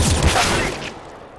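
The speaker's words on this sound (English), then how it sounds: "I'm throwing a flashbang" A flashbang grenade goes off in a professional Counter-Strike match. One loud, close, broadband burst is followed by a short fading rumble lasting about a second.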